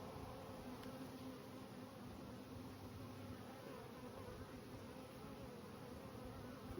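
Bees from a late-season swarm on a bird's nest buzz as a faint, steady, continuous hum, close and unbroken for the whole stretch.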